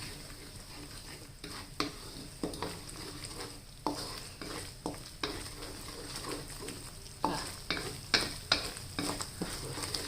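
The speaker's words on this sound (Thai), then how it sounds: "เราเคี่ยวเลยค่ะ คนด้วยนะคะ" Coconut milk simmers in a pot for Thai panang pork curry while a utensil stirs it, giving repeated scraping knocks in an irregular rhythm over a low bubbling hiss.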